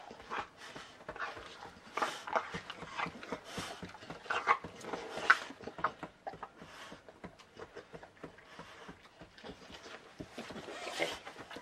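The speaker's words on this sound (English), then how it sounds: "You're a wild puppy." A puppy makes soft, intermittent whimpering and panting noises, close by, with small rustles between them.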